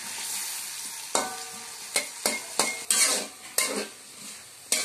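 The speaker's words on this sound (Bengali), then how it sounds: "আমার আলুগুলো ভাজা হয়ে গেছে।" New potatoes frying in a pan for khichuri, a soft continuous sizzle broken by several sharp metallic clinks and scrapes of a spatula stirring against the pan, close and clear with no voices.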